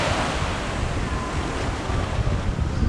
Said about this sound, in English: Got some bigger swells coming in.